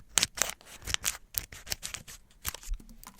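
Scissors snipping in a quiet setting during a Latisse treatment, a string of sharp, close crisp cuts in an irregular rhythm with short pauses between, soft and intimate.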